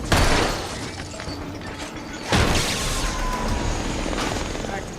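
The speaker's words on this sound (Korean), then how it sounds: "이날도 여느 날과 같이 드론들은 필요 없는 생산품을 가득 싣고 날아왔는데요." Delivery drones fly in with a heavy, helicopter-like whirring drone that swells and stays loud, with a sharp crash-like burst partway through.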